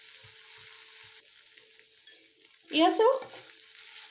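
Okra frying in a pan for an Assamese egg bhindi dish, a faint low sizzle with a few soft stirring knocks, broken by a short burst of speech partway through.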